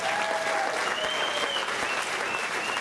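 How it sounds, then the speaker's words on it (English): Steady, dense applause from the audience at a Hall of Fame induction ceremony, even and sustained throughout with no clear talk over it. "let's give her a big round of applause"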